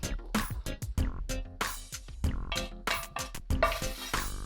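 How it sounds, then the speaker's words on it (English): Spoon stirring Creole seafood gumbo in an old family pot, with repeated scraping and clinking strokes and a soft sizzle underneath, close and fairly quiet. "I'm just going to stir that."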